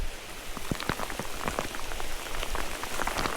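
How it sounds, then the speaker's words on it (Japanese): Steady rain pattering on a mountain road near Gassan in Japan, with dense, fine drops falling evenly and continuously at a moderate, close level, no voices. "クソ雨降ってきたよ。"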